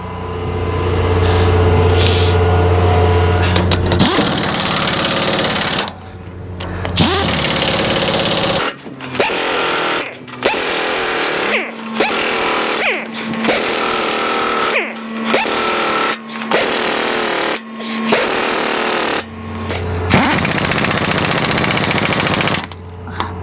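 A pneumatic air gun driven off an air compressor fires in rapid rattling bursts of several seconds each, separated by short pauses, loud and close over a steady compressor hum.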